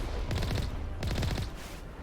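Upgraded ship guns in a space video game fire two quick rapid-fire bursts, each a tight rattling volley of shots, moderately loud with a short pause between them.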